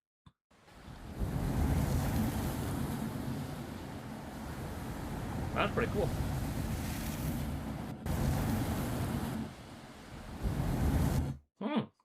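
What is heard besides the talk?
ocean waves and surf in a surfing video game demo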